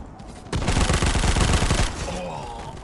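Automatic gunfire bursts in the mobile shooter game Guns of Boom, a loud rapid volley of shots lasting over a second before fading into quieter game sounds.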